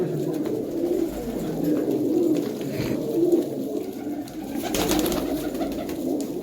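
Old, pure-bred pigeons in a village loft at Hardaspur coo in soft, overlapping rolling calls that repeat steadily, with fluttery background rustle and a brief brighter burst partway through.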